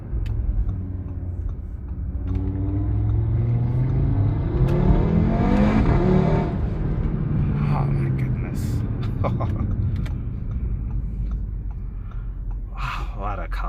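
A 2017 Audi RS3 (8V) engine revs up and accelerates hard, the pitch climbing and roaring loudly inside the cabin, then settling into a sustained drone with faint voices.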